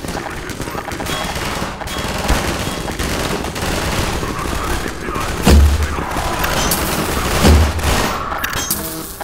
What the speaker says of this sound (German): Gute Schuss, Gordon.